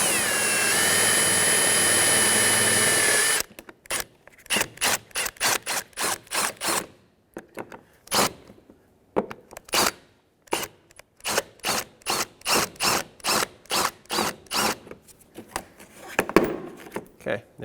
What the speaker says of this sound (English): You'll need a drill bit and a drill to drill these out.